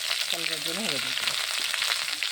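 Spice paste of ground cumin, ginger paste, garlic, onion, dried chilli, salt and turmeric frying for a prawn curry: a steady, close sizzle under a brief faint voice.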